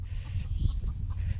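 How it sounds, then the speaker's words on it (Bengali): Farm chickens cluck softly near a jute field, with short repeated calls over a low steady outdoor rumble. "এই যে মুরগি সব এই যে পাট খেতে যায়"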